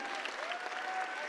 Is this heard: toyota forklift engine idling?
no